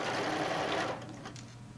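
A sewing machine stitches straight across a tote bag panel, a close, steady rapid whir that runs for about a second before slowing and quieting.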